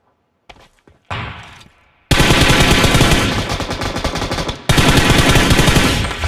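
Loud bursts of automatic gunfire in PUBG Mobile, two long sustained volleys of rapid shots after a few scattered single thuds, dense and close with no talking.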